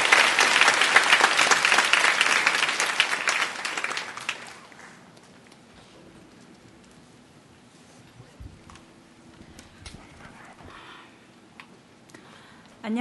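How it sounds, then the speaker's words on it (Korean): A church congregation breaks into loud applause during a special dawn revival service; the clapping is dense for about four seconds, then drops away to a quiet room with faint shuffles and scattered small noises. "우레와 같은 박수로 격려해 주시면 좋겠습니다"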